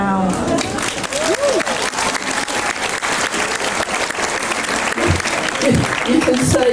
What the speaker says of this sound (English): You can save the applause for when I'm 82.